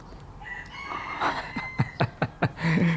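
A rooster crows close by, its call rising through a series of sharp bursts and ending in a drawn-out note, with no talking.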